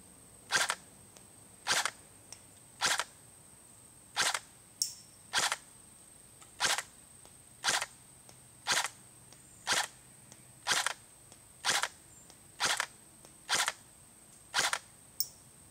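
An ICS Galil ICAR MRS airsoft gun fires semi-auto shots with 0.25 g BBs and an adjusted hop-up: about fourteen sharp, evenly spaced clicks at a steady rhythm, moderately loud over a quiet background.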